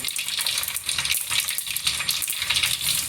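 Cumin seeds crackle and sizzle in hot oil for pav bhaji, a loud, dense, steady frying hiss with rapid popping, close by and with no talk.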